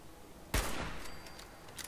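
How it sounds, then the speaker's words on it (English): A single sharp, loud hunting rifle shot rings out in the Fallout 4 video game. It leaves a decaying echo, with faint follow-up noises after it and no talking. "I love this hunting uh, rifle."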